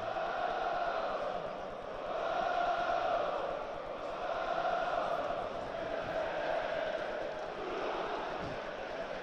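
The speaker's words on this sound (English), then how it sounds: "the crowd are singing his name" Football crowd at a Middlesbrough match singing a player's name, a sustained swelling chant from a large stadium crowd with a commentator's voice talking over it.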